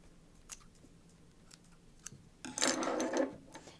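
Midarm quilting machine stitching as quilting starts: sparse faint ticks and clicks give way to a louder, steadier burst of stitching near the end, heard alone without talk.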